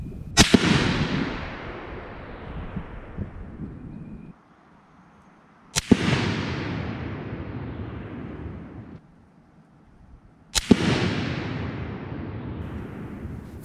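Three loud, sharp rifle shots from a bolt-action rifle in an aluminum chassis, spaced about five seconds apart, each followed by a long rolling echo that fades outdoors.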